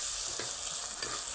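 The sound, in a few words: onions frying and being stirred in a pan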